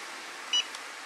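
A heat press timer gives a single short, bright electronic beep, close and clear against quiet room tone, followed by a faint click.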